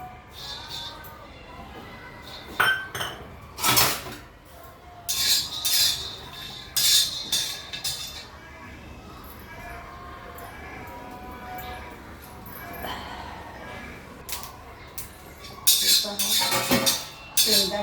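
Peanuts roasting in a pan, with frequent sharp clinks of a utensil scraping and tapping the metal in irregular bursts against a soft, steady background hiss and occasional voice nearby.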